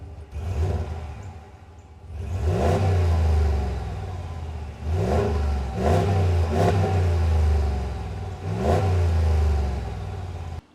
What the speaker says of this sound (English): Let me rev this up for you a little bit.